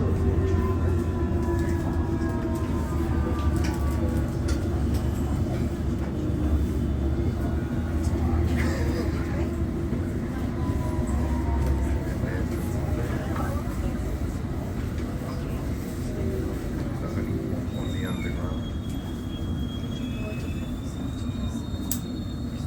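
A London Underground District line train running towards Richmond near Kew Gardens, with a steady loud rumble and rolling hum throughout, faint squeals and rattles above it, and announcements heard over the noise.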